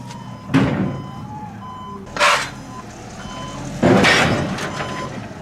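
A demolition derby car backs up with a steady, repeating reversing beep at moderate distance. Three heavy thuds or door-like bangs break in along the way.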